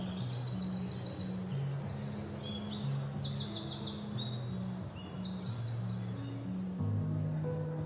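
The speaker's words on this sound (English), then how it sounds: "Listen to the chirping birds." Birds chirping around a pond in a green forest, several high, quick trills and tweets overlapping at moderate distance against a soft background hum, with no voices.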